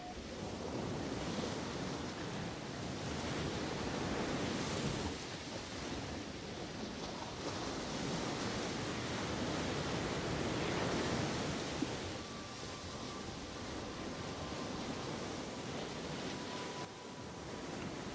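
North Sea surf on the Aberdeen coast in Scotland washes in as a steady, broad roar with gentle swells, and light wind buffets the microphone; no one speaks.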